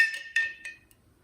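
A spoon stirs a peach drink in a glass, giving three or four bright, ringing clinks that fade quickly, close and soft, then a tiny final tap.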